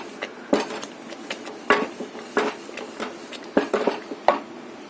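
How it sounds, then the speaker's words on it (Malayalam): A spoon stirs thick gooseberry lehyam with dry ginger, cardamom, cloves and cinnamon in a pan, making irregular close clinks and scrapes against the metal with soft gaps between strokes. "ഇനി നന്നായിട്ട് ഇളക്കി യോജിപ്പിക്കാം"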